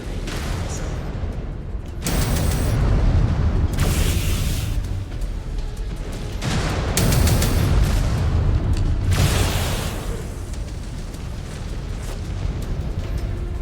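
Missile explosions in the MechWarrior 5: Clans video game, heavy booming blasts landing in several loud waves about two to three seconds apart over a constant rumbling battle din.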